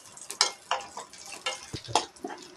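Cashews and raisins frying in ghee for rice palada payasam, with light ticking and popping crackles and occasional stirring clicks against the pan, close and fairly soft.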